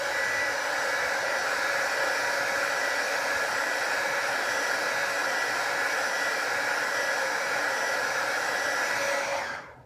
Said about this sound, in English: And then we're going to heat it up with the blow dryer.